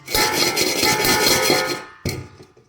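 Homemade popcorn rattling in a pot being shaken on the stove, a dense scraping, rasping clatter of kernels against metal for about two seconds, then a brief final shake that fades out.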